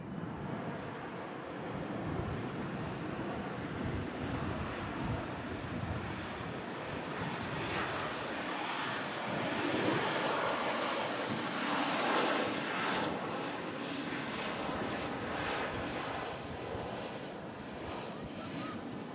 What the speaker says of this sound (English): Bit of an interesting landing there on the Ryanair